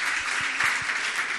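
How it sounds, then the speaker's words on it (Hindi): An audience at a Jain religious gathering with a monk on stage claps in a dense, steady burst of applause that fills the room at even volume. "जोरदार ताली आप बजा दीजिए"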